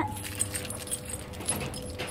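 Garage keys jangle close by in steady, light metallic bursts, a few brighter chinks standing out, with faint background noise and no talking.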